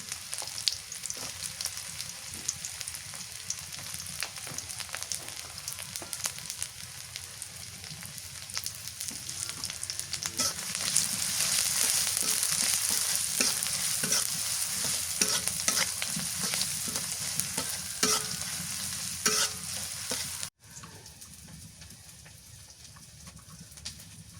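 Chopped onion and green chili frying in oil in a home kitchen while fish curry is being made, a steady close sizzle with stirring scrapes that swells louder midway, then drops abruptly to a quieter fry near the end.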